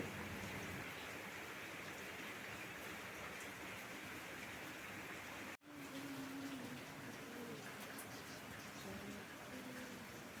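Steady hiss of rain falling, even and continuous, with a brief cut in the middle and a faint voice or bird call in the background.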